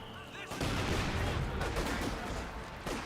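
Artillery in Company of Heroes 2 bursts loudly after a brief quiet, with dense booming impacts and crackling explosions piling up and rumbling on in a busy battlefield din.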